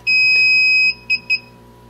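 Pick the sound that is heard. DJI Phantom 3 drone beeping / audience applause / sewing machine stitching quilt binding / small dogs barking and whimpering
DJI Phantom 3 drone beeping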